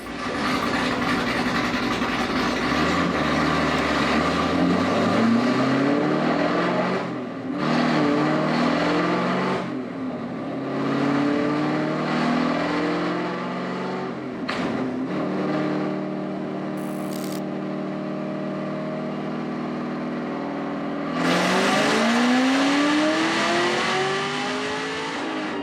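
Supercharged ZL1 Camaro engine, the Bad Punk'n build, revving hard on a dyno during tuning, with loud repeated climbing pulls and drops, nothing but engine roar throughout.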